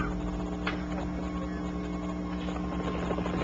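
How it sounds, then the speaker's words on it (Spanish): A helicopter landing, its rotor and engine producing a steady, loud droning hum with rhythmic low thumping throughout, no clear talk. "Lo llevaron afuera, donde un helicóptero aterraba para transportarlo al hospital"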